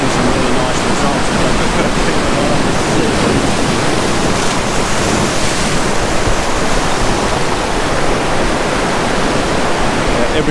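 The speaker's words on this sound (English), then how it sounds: "Every now and then a wave comes in like this one." Sea waves washing over rocks at a rock pool on a beach at sunrise, a continuous loud roar of surging, churning water with no break throughout.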